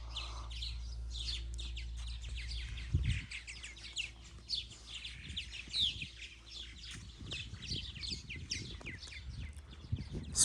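Birds singing early in the morning at a riverside state park campsite in Texas, many overlapping chirps and trills at moderate distance, with occasional low bumps and handling noise.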